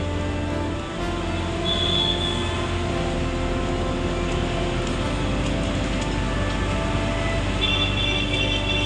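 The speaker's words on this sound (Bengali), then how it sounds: "মেট্রো ভি এখানে চলছে," A metro train running on a flyover, heard as a loud continuous rumble of wheels and motors with brief high squeals, steady and close for the whole stretch.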